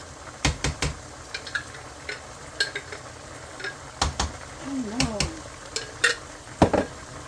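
A utensil scrapes and clinks against a pan while Alfredo sauce is stirred in for a chicken Alfredo dinner, with irregular close taps and clatters over a quiet kitchen background.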